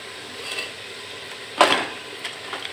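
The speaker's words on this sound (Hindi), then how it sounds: "इसको अच्छी तरह से भून लीजिए।" Spices and ingredients frying in a pan for Old Delhi style nihari, a soft steady sizzle with a sharp scrape of stirring partway through and a few lighter clinks after.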